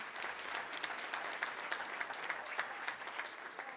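Sustained audience applause at a school board of education meeting as holiday performers leave, dense steady clapping from a crowd with no voices.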